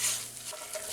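A roux cooks in a pan and is stirred, giving a steady soft sizzle with faint scraping strokes, close and quiet, with no voices.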